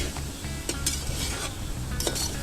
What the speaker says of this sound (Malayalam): എന്നിട്ട് ഇത് നന്നായിട്ട് ഇളക്കി കൊടുക്കുക